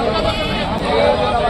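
Sheep bleat amid the dense crowd noise of the Rajarampalli sheep market, their wavering cries mixed into steady, loud chatter and babble from nearby people.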